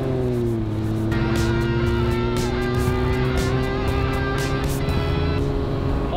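A Triumph TR6 British sports car drives steadily, its engine note droning close and loud with a slight rise in pitch, no talk over it.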